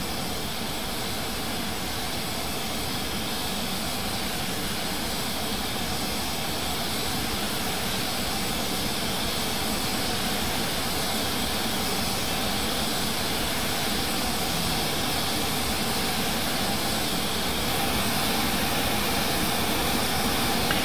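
Fast jet engine roar from inside a low-level flight heading north after the Mach Loop, a steady, loud, unbroken broadband rush with no talk.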